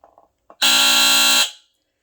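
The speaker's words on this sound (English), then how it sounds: "this uses a Douglas Randall AC vibratory horn" A loud, harsh Douglas Randall AC vibratory horn on a Square D Earli-Gard EGD-4S smoke alarm blares steadily for about a second after a couple of faint clicks, then cuts off.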